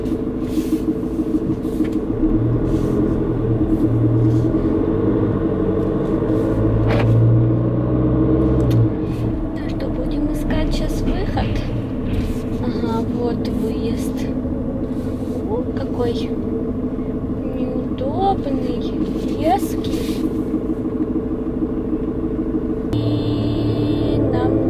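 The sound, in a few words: car driving off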